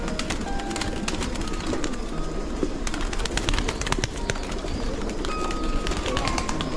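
A large flock of pigeons at a shelter caring for some 3000 birds coos continuously close by, with overlapping throaty calls and scattered chirps forming a dense, unbroken chorus.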